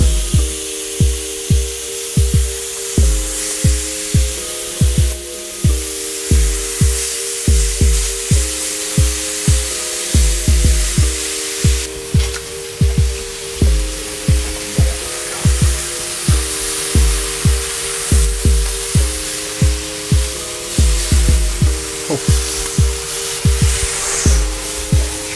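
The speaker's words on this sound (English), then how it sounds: "it's just a case of dropping your bacon onto the pan, and you should find it'll cook in a couple of seconds" Bacon sizzles in a hot pan, a steady bright hiss punctuated by regular clicking and tapping beats, a close, mid-level cooking sound with no talk.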